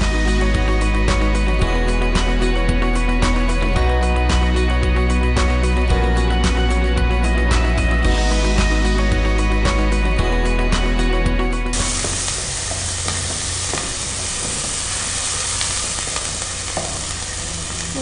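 Ginger garlic paste fries and is stirred in a pan for semiya pulao, a loud continuous sizzle with scraping stirs, overlaid by background music for most of the clip before the frying carries on alone.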